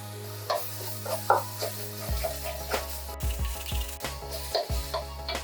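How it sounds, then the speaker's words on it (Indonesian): Thick blended spice paste for ayam kebuli sizzles in a hot pan while a spatula stirs and scrapes in repeated strokes, steady and near, with no voices. "Lalu tambahkan bumbu yang sudah di blender tadi."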